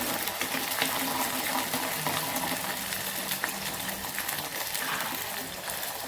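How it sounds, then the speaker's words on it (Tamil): Small onions are washed in water while preparing vatha kuzhambu, a steady, soft splashing and running-water wash with faint background voices. "எல்லாம் முதல்ல கழுவி வச்சுக்கணும்."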